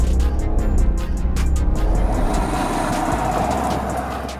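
A BMW 3-litre straight-six diesel accelerating hard under launch control, a loud, steady low engine roar close by that rises and then eases slightly as the car pulls away.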